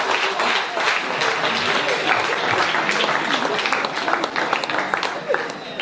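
A congregation at a church service applauds and claps together, a dense, steady wash of clapping and crowd noise throughout with voices mixed in.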